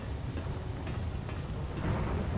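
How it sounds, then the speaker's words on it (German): Steady heavy rain hisses and patters in a rainy night in the S.T.A.L.K.E.R. video game, with a low rumble of thunder rolling beneath it throughout and no voices. "Dieser Regen, nur wenn es blitzt, sehe ich was."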